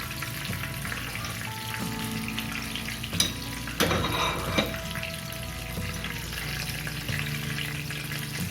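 Paneer pakoda deep-frying in hot oil, a soft continuous bubbling sizzle with a couple of louder clinks and scrapes midway, fairly quiet and without speech.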